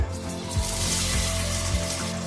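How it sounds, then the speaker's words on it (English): Onions dropped into hot oil in a heated pan, a steady broadband sizzle and crackle running through with low pops and bumps, close and fairly loud with no talking. "Once your oil is heated up, your onions go in."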